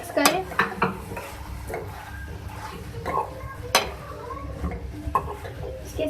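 Spoon clinks and scrapes against a bowl while mixing grated carrots into a vegetable filling, irregular sharp taps and stirring rattles with a few louder knocks, close by, over soft room noise.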